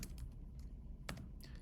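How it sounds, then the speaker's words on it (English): A handful of keystrokes on a computer keyboard while an equation is entered, as sparse, irregular soft clicks over quiet room noise, with no voices. "I'm going to type the equation in as it appears"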